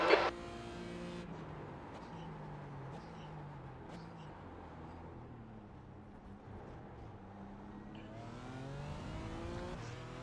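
Formula Vee race cars in a sim racing game drone steadily with engine tones rising and falling through gear changes, a continuous mid-level engine sound with no speech.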